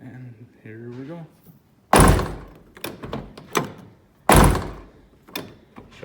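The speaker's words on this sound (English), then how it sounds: "shutting door." The door of a 1973 Chevelle shuts twice with heavy, solid thunks a couple of seconds apart, with a short voice before the first shut and small rattles and handling noises between them.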